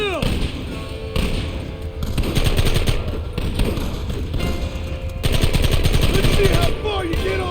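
Rapid bursts of gunfire crackle through a Red Dead Redemption shootout, repeated volleys of rifle and pistol shots with loud thuds, mixed with game voices shouting over the barrage.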